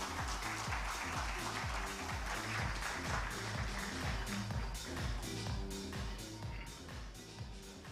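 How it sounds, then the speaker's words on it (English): Audience applause at the ET Startup Awards 2024 in India, a dense steady clatter of clapping running throughout beneath loud rhythmic music with a thumping beat. "Can I have a bigger round of applause?"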